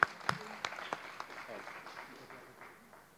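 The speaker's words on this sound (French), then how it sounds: "Encore des applaudissements pour Clément" Scattered applause from a magic show audience welcoming a volunteer onstage, a few distinct claps over a soft crowd wash that fades within a few seconds.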